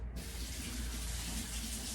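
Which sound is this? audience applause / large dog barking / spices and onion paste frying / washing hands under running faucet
washing hands under running faucet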